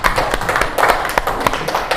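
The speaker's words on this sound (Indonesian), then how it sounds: "Tepuk tangan semuanya buat Sela." Clapping from a small group, probably a classroom, comes as a brisk, uneven patter of close hand claps with sharp individual taps standing out.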